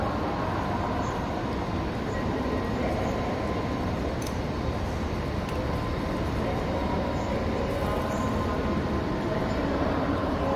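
A steady, dense rumble of rail traffic fills Frankfurt am Main Hauptbahnhof, with a constant low roar and faint distant clanks throughout.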